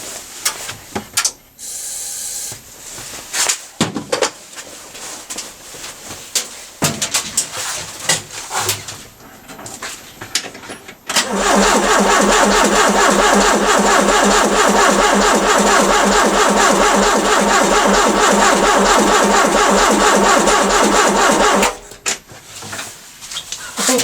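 A Ford Cortina engine cranks for about ten seconds in a loud, steady, rhythmic churn that fails to catch, with rattling and shuffling around it before and after.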